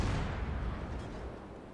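A distant boom of naval gunfire rolls out in a warship video game as a shot goes toward a Cleveland-class cruiser, a broad low rumble that fades slowly over the moment with no talk.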